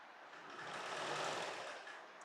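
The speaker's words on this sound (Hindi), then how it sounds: "धीरे धीरे आराम से करनी है इसमें स्टिचिंग।" A sewing machine slowly stitches a round flat collar on a kurti, giving a short, moderately loud continuous whirring run that swells and fades without any voice over it.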